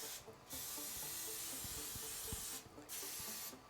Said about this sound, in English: So we are spraying the ever-living shit out of these.